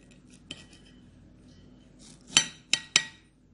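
A few sharp knife taps against a hard surface, three louder ones close together near the end, with light clinks between.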